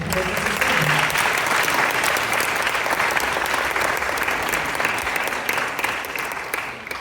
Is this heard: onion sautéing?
no